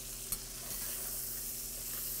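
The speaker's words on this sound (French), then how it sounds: "Et on fait rôtir dans le beurre qui a servi à rôtir les pinces, encore une fois pour le goût." Head roasting in butter in an enamel cast-iron pot, a steady quiet sizzle and crackle with a brief sharp tap early on, heard alone without talk.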